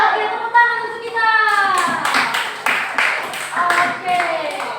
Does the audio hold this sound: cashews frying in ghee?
no